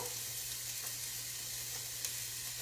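Minced garlic sizzling in a soup pot, a steady, fairly quiet hiss of frying that continues evenly with no talk.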